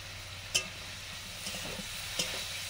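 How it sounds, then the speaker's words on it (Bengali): Paneer cubes frying lightly in a pan, a soft steady sizzle with two sharp spitting pops and faint stirring scrapes, close and fairly quiet. "পনিরগুলো ভেজে নিচ্ছি।"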